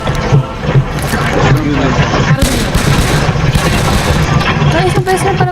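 Rapid gunfire from a weapon in Left 4 Dead 2 during The Passing campaign crackles almost continuously at close range, loud and dense, mixed with game noise and players talking in Filipino.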